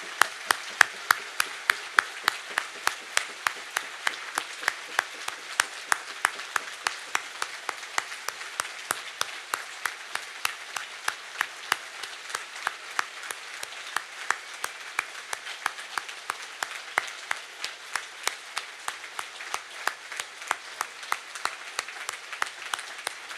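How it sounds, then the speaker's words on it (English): A crowd at an independence march in Cardiff claps in memory of Eddie Butler, a rhythmic, unified clap of many hands beating steadily in time, roughly twice per second, for over twenty seconds. "we would like to do a moment's clap. If you'd all like to join me in a clap for Eddie."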